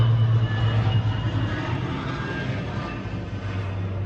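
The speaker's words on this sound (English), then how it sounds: "Oh, come on, plane. I'm trying to talk here." An airplane drones overhead in a steady, loud, broad roar with a strong low rumble, holding at an even level throughout and fading only slightly toward the end, with no talk over it.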